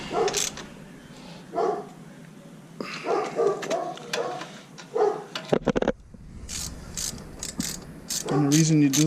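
Bolts on a Honda Shadow VT750 drop-kit suspension bracket are tightened with a ratchet, giving bursts of rapid metallic clicking close by, broken by short pauses and a few clanks of tools.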